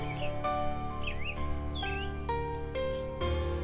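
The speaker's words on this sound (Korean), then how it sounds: "새들의 울음소리와 바람소리가 잔잔한 배경음이 되어줍니다." Birds chirping and calling in a Jeju forest over a steady, sustained background tone of wind, with occasional sharper call onsets.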